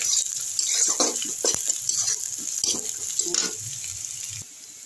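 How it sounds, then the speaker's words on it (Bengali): Onions fry in a pan for an egg fry dish, a close, busy sizzle broken by scraping stirs of a spatula, which fade to a quieter hiss near the end. "পেস্ট করে তারপরে এই পেঁয়াজটা এখানে ভাজা হচ্ছে"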